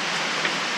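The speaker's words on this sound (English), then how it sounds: "Raining so hard, you can't hardly hear anything in here." Heavy rain pours down hard, a dense, loud, unbroken hiss of drops drumming on a surface that fills the space with no other sound.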